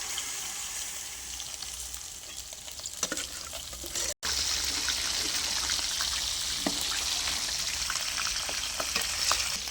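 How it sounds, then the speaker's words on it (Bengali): Potatoes sautéing with spices in a pan give a steady, close sizzle throughout, with light scraping clicks from stirring and no voices. "তো এখন আমাদের আলু গাটি কষানো হচ্ছে, আমাদের মুরব্বি কষাচ্ছে দেখুন।"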